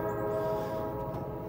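Freight train on a short line climbing steep Williamsburg Hill near Cincinnati, a distant horn tone sustained over a low, steady engine rumble, fairly faint.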